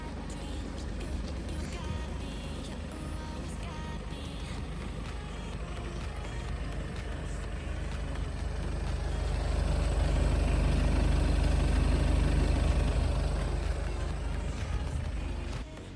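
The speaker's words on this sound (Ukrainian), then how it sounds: "Зараз послухайте, як працює мотор." A 2015 Volkswagen Passat B8 2.0 diesel idles with a low, steady rumble close by, a constant chugging drone that grows slightly louder partway through.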